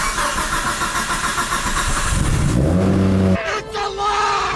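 A car's engine cranks and catches after its fuel pump primes, a rising whir settling into a steady running note, close and loud, with people talking excitedly around it.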